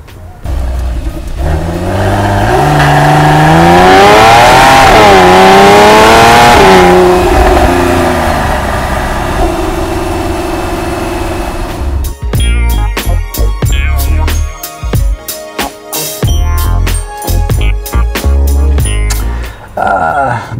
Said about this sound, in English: it makes a nice flat six noise. The infamous Porsche wail.